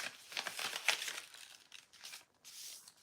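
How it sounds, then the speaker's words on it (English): Fabric being folded in half while making fabric tags: soft crinkling and rustling in short bursts, close-up and quiet with brief pauses between handling movements. "So I'm going to fold this in half too."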